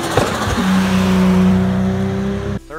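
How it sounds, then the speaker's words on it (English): A turbocharged car engine revs loudly with a droning, buzzy tone, then the throttle lifts and the turbo compressor flutters in a quick, stuttering chatter at the very end. "create a back pressure in the intake. This spins the compressor wheel back and forth, creating that classic turbo flutter we all know and love"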